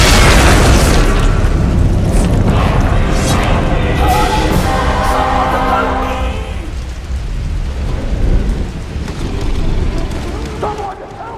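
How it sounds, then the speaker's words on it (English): Heavy booming bursts from God of War gameplay as enemies' heads explode, a loud, dense rumbling roar that fills the first half and then fades into a lower, steadier wash. "And their heads explode."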